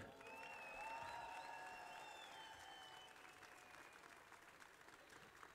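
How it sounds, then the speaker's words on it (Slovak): A crowd at a political rally in Bratislava applauds steadily for the whole stretch, strongest early on and easing slightly toward the end, with faint tonal sounds over the clapping. "Ešte raz veľký potlesk."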